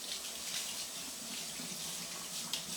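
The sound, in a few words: rinsing something under running water tap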